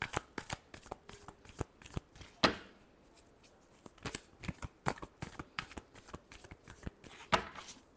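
Tarot cards are shuffled by hand in quick, irregular bursts of crisp riffling and slapping taps, close and quiet, with no talking.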